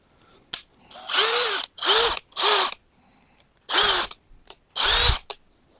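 A DeWalt cordless drill/driver from a US tool unboxing spins up in five short bursts of whirring, each a second or less, separated by brief pauses, loud and close with no talk.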